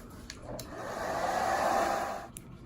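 A frame warmer blows hot air onto an eyeglass end piece, a steady rushing whoosh that rises, holds for about a second and a half, then cuts off, with faint clicks before and after.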